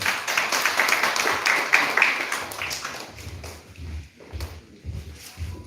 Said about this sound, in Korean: 힘찬 박수 한번 해주세요